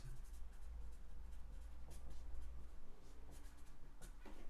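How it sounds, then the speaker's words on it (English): Notes written by hand, a faint close scratching of pen on paper in short strokes over a low background hum. "So let me just write that shit down."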